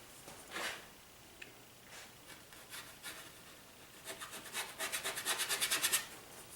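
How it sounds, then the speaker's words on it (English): A palette knife scrapes paint onto a landscape painting in soft, separate strokes, sparse at first and then building into a quick run of rhythmic rasping scrapes near the end, close and fairly quiet with no talking. "I just scraped in some verticals, and now back to my horizontals."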